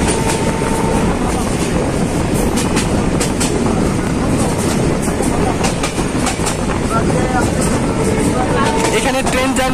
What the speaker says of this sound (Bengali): পুকুরিয়া স্টেশনে যাত্রা বিরতি শেষে এখন আবার ট্রেন ছুটে চলেছে